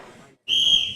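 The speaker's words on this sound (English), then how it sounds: "On the whistle." A referee's whistle at an under-80kg strongman competition signals the start of a lift: one loud, sustained, shrill blast that cuts in after a brief silence, with faint crowd noise before it.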